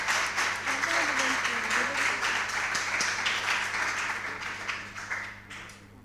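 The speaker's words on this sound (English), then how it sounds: "A round of applause for Nana Quainoo" A crowd at a school quiz competition claps in sustained applause that gradually fades out, with a voice speaking over it.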